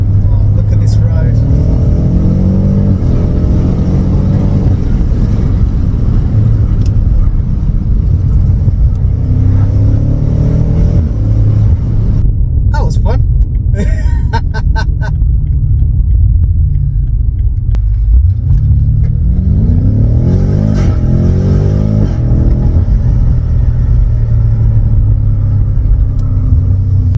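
BMW F90 M5 driving along a winding road, its engine a steady deep rumble with rising and falling revs throughout, loud and close, heard from inside the car with a person talking over it.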